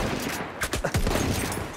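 Shotgun fire in a multiplayer video game on a Tsar-themed map, a quick cluster of sharp, loud blasts bunched together over a couple of seconds against background game noise.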